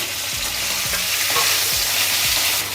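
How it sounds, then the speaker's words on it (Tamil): Boiled potato pieces fry in oil with unpeeled garlic and curry leaves. A loud, continuous sizzle fills the sound, broken by several quick scraping stirs, close by and without speech. "இன்றைக்கி உருளைக்கிழங்கு வறுத்துட்டுருக்கேன்"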